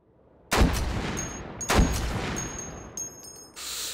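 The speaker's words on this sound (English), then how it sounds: "Well, they start shooting at me." Gunfire from enemies in the VR shooter Hot Dogs, Horseshoes & Hand Grenades: two loud, sharp shots about a second apart, each trailing into a long echoing rumble, with a few faint clicks and rattles afterward.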